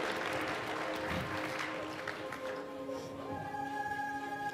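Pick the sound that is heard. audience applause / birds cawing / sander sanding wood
audience applause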